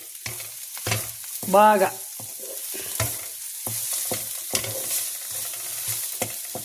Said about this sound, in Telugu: మొట్టమొదటిగా మనము ఇలా ఉల్లిపాయల్ని బాగా వేపుకోవాలండి.